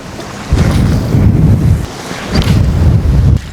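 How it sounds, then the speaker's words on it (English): Strong wind buffets the microphone on open tidal flats as the tide runs out during a fishing outing, a steady roar with heavy low rumbling gusts and no talk. "It's a bit blowy out"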